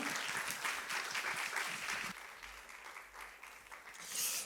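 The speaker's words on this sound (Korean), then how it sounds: "우리 큰 박수로 사랑의 박수로 함께 환영하고 모시도록 하겠습니다" A congregation at a Sunday service in a Korean church applauds to welcome the pastor, a steady, fairly faint wash of clapping that dips midway and swells again at the end.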